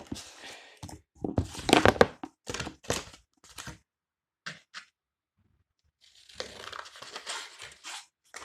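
Scissors cutting paper triangles nearby, a series of short crisp snips and rustles with brief pauses, quiet and close.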